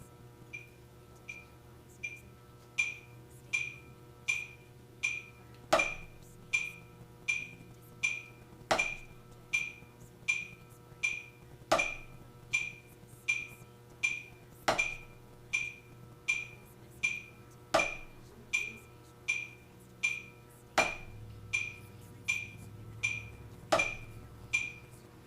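Drumsticks strike single strokes on each downbeat in a steady, even pulse alongside a continuous ticking metronome, with regular sharp hits standing out over the faster clicks, fairly quiet and alone.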